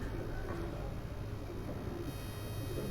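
Pigeons kept as a hobby by Dr. Shahid Javed in Havelian coo softly and steadily against a constant outdoor background hum, with no distinct bursts standing out.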